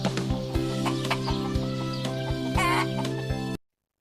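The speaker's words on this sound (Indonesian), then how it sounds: "Itu adalah hewan ayam." A chicken clucks in short, repeated bursts over a steady droning background hum, fairly close and clear, the clucks spaced irregularly before the sound cuts off abruptly.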